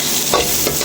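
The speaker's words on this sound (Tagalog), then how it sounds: "Halo-haloin lang konti para mag-halo" Garlic and onion being stirred as they sauté in a pan, a brief loud sizzle with two quick scraping strokes, very close and with no voices.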